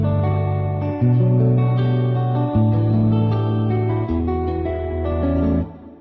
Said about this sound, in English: simply the guitar to an amp to a tape wobble